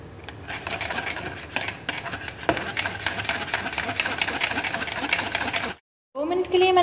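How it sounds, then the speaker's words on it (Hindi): Chilled cream beaten with a hand whisk makes a fast, steady metallic whirring and clicking against the bowl, running continuously for several seconds before a brief pause. "अब इससे हैंड विस्क से, आप चाहें तो इलेक्ट्रिक बीटर से भी थोड़ी देर हम इसे बीट करेंगे"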